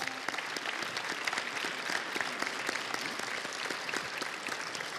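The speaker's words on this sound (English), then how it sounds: "Let's stand and give them a round of applause" A standing audience at a gubernatorial candidates' forum held in a church applauds, a continuous crackle of many hands with distinct individual claps, heard from a moderate distance and fairly quiet.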